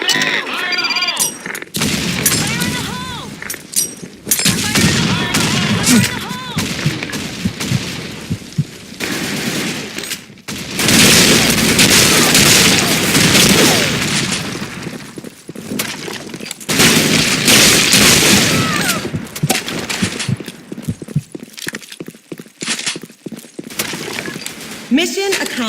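Grenade blasts and bursts of gunfire from the online shooter Sand Storm 2 crash in loud, dense waves throughout, with repeated sharp explosions and rattling shots broken by brief lulls.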